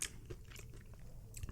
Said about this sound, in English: Those loud crunches?